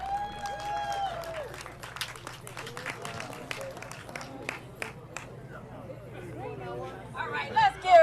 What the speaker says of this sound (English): let's give Pastor Quick another round of applause